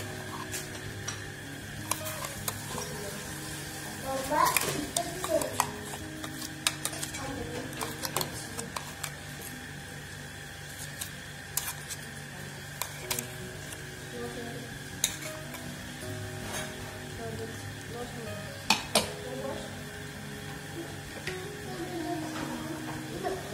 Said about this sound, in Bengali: আমাদের তিল বাটাটা দিয়ে দিয়েছি, আমাদের নাড়া হচ্ছে।